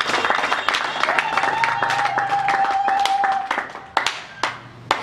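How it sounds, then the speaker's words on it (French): A crowd at an MLC party gathering in Mwene-Ditu claps loudly and densely, with a held vocal or whistled tone running over the middle. The clapping thins into a few separate, sharp claps near the end. "je voudrais que vous puissiez l'applaudir"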